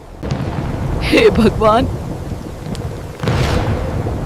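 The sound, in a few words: thunderstorm with thunder and heavy rain, cartoon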